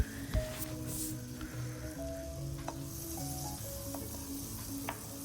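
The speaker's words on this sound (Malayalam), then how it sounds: "ഇനി നമ്മൾ ഒരു പാൻ അടുപ്പത്ത് വെച്ച് അത് ചൂടായി വരുമ്പോൾ അതിലേക്ക് അല്പം ബട്ടർ അല്ലെങ്കിൽ നെയ്യ് ചേർത്ത് കൊടുക്കുക." Butter or ghee heating in a pan on the stove for nut and coconut sweets, a faint, steady crackling sizzle with occasional small pops, quiet and close, with some low background hum.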